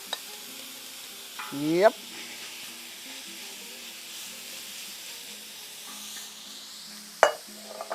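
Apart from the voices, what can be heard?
meat sizzling as it fries in oil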